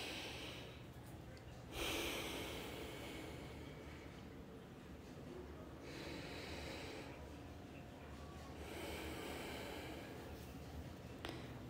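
Slow, audible breaths while holding yoga lizard pose, soft airy inhales and exhales repeating over a low steady background hum, with one sharper breath near the start.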